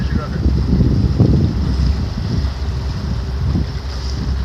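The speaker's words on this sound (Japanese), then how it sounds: "だから波のあるところに当たる音でダーンって言ってる。" Wind and rushing water surround a flat-bottomed river boat on the Mogami River as it slaps into waves, with a dull thud among the steady roar, close and loud, and some voices underneath.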